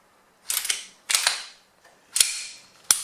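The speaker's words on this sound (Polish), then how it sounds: "Sprawdzimy, czy broń jest rozładowana" A Glock 19X pistol being checked to confirm it is unloaded gives four sharp metallic clacks of the slide and action, spaced irregularly with short quiet gaps between them, close and alone.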